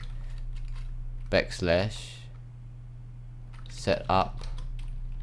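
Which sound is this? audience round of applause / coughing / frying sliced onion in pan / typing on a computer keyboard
typing on a computer keyboard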